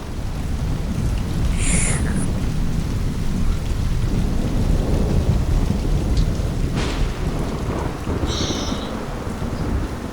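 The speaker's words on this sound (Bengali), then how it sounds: "ঠিক এরকমই মুষলধারে বৃষ্টি পড়ছিল।" Heavy downpour pours steadily in a cartoon rainstorm, with a couple of sharp thunder cracks breaking through the dense, loud roar of rain; no one speaks.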